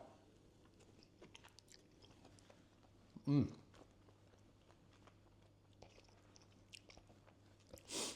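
Crispy, sticky air-fried pork belly bites are chewed up close, with one loud crunchy bite standing out among quieter wet chewing and a second crunch near the end.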